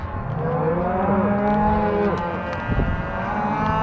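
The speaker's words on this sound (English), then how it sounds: "Hey cattle, yep. Come on." Several cattle low in long, overlapping moos close by during a Montana ranch roundup at shipping time, a steady chorus of bovine calls with no talking.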